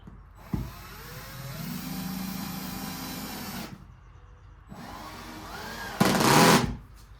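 A power driver with its clutch set drives location screws into a dry-fitted piece: two rising motor whines separated by a pause, then a loud, rapid ratcheting clatter as the clutch slips, close up.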